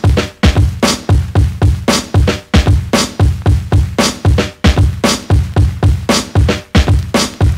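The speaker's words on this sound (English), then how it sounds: "For this specific breakbeat, I've messed around with some more kicks and some more snares in some different places." A programmed breakbeat with extra kick and snare hits placed in unusual spots: punchy, loud drum hits in a tight, syncopated repeating loop, played alone without talk.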